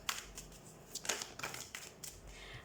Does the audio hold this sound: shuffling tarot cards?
yes